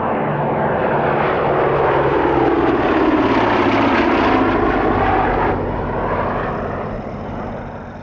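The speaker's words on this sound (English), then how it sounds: "The Blenheim is displaying in Coastal Command markings of 254 Squadron." Bristol Blenheim, a twin-engine WWII bomber in Coastal Command markings of 254 Squadron, flying a display at a Duxford airshow; steady loud propeller-engine drone that swells as it passes, then fades gradually toward the end.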